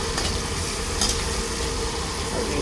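Tomatoes sautéing in a pan give a steady, close sizzle and crackle with a faint scrape of stirring, continuous throughout with no voices.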